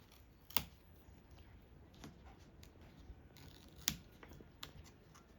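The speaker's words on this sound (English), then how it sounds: "all I need to do is cut off the excess" Scissors snip off the excess strands of a woven hala leaf heart, giving a few sharp, quiet clips spaced apart against a soft, still background.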